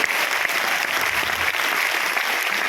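Sustained applause from an audience at an event, dense and steady throughout with no speech over it.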